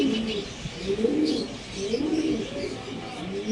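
Several pigeons at a pigeon farm coo in soft, repeated rolling phrases close by, with faint chirps and background rustle and no talking.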